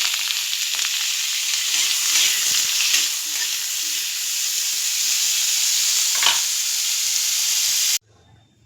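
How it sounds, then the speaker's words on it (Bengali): Pumpkin pieces frying in mustard oil in a wok, a loud continuous sizzle with occasional stirring scrapes, ending abruptly near the close. "কেটে রাখা যে কুমড়োগুলো ছিল সেটা হালকাভাবে ভেজে নিচ্ছি"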